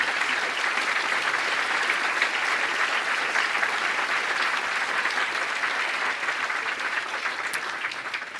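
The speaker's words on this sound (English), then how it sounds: "give a strong, wonderful King round of applause to the families who are sitting in this audience today" Sustained audience applause fills a school prize day ceremony, steady and dense for the whole stretch, tapering slightly at the end with no voices over it.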